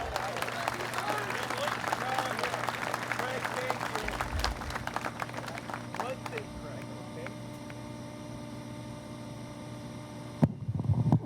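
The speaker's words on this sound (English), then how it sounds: "So big round of applause for Mike Starrell." A round of applause for Mike Starrell at the opening ceremony of the Carl M. Kuss Memorial Field, a scattered outdoor clapping over a constant electrical hum that thins out midway and leaves mostly hum, with a few sharp knocks near the end.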